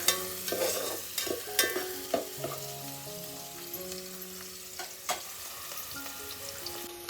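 Whole spices and onion frying in hot oil for a village-style chicken dish, a continuous close sizzle with scattered crackles and intermittent stirring knocks, moderate in level and without speech.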